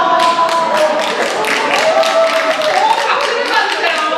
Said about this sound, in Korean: 이 정도만 얘기해도 박수를 받는 거 봐요.